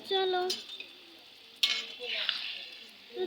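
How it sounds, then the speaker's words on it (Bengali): Noodles are stirred in a pan, with soft sizzling and a few utensil scrapes and clinks against the metal, plus a short hum of voice near the start. "চলো ভালো করে নাড়াচাড়া দিই"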